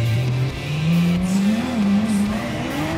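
A race car in GT Sport on PS4 drives hard through a race, its engine droning and rising in pitch under acceleration, loud and continuous, with faint squeals and no talking; no clear crash impact stands out.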